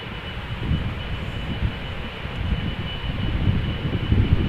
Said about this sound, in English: Here's our next airplane, United Airlines Flight 21, 777-200 going to Houston, Texas.